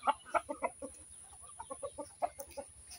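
A red chicken on a farm with ducks clucks in quick soft bursts, a cluster of short calls then another run of clucks, close and fairly quiet.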